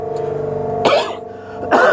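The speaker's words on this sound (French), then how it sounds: "c'est la toux, ça va passer" Two harsh coughs from a man, spaced under a second apart, loud and close over a steady electrical hum.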